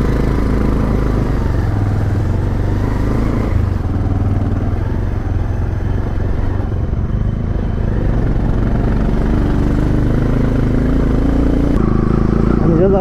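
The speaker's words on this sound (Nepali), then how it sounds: "त्यो बाइक अहिले मै चलाउँदैछु" Motorcycle on an off-road mountain route out of Pokhara, its engine droning steadily and loudly with rough clattering throughout, close and continuous, with bits of talk underneath.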